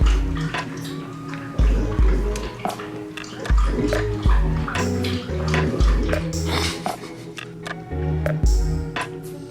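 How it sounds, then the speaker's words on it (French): A dog noisily lapping water from its bowl indoors, a rapid irregular series of wet slurping and clinking splashes continuing steadily and fairly close. "Même quand il boit de l'eau, il fait du boucan."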